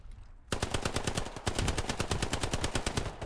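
Loud, sustained rapid machine-gun fire in a 21-versus-21 video game skirmish at Mortain, starting after a brief quieter lead-in and rattling on without a break.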